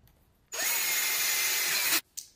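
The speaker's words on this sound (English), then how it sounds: "Let's see what happens when I drill directly with the big bit." A power drill fitted with a big bit bores in one loud, steady burst of about one and a half seconds. It stops abruptly, followed by a brief short whir.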